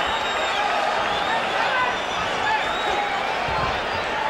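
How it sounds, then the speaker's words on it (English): Boxing crowd at Staples Center cheering during a Manny Pacquiao versus Hector Velazquez fight in 2005, a loud, steady roar of many voices that fills the clip under a ringside commentator's talk. "Crowd really into it here at Staples Center"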